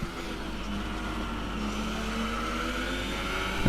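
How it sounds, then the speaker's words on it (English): On-board sound of a Sauber racing car's engine and gearbox in a Bahrain race, a steady droning engine note with a sustained tonal whine, close and continuous, holding level with a slight rise at the end, no talk. "The gearbox and Sauber doesn't really sound too healthy"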